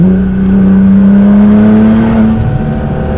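A Nissan GTR engine pulls under hard acceleration, a loud steady droning tone climbing gradually in pitch from close inside the cabin, with no talk over it.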